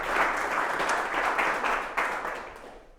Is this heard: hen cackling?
no